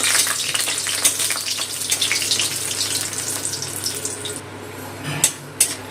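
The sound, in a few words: frying lentil dumplings (bori) in mustard oil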